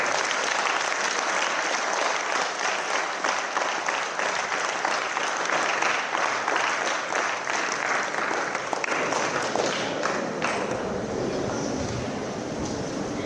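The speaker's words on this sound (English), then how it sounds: "I request you all of you a big clap again for her" An audience at a university centenary celebration claps for a speaker in a long, even burst of applause from many people, dense and continuous, with a slightly windy, noisy background.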